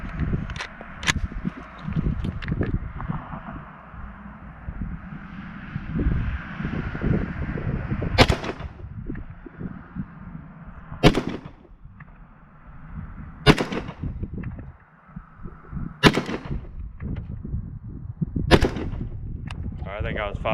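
AR and AK rifles fire five sharp, loud gunshots spaced a few seconds apart outdoors, each crack standing out over a steady background rumble.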